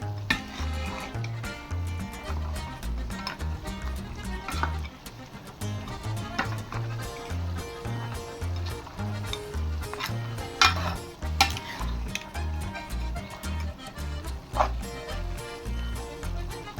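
A spoon stirs a Goan pork solantulem masala mixture in a pan, with repeated scraping and clinking against the metal over a faint sizzle, close and rhythmic.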